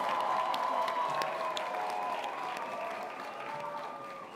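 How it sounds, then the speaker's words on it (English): An audience applauds at an outdoor college graduation ceremony in Charleston, a sustained wash of clapping from a large crowd that slowly tapers over a few seconds, with faint voices mixed in. "With a big round of applause."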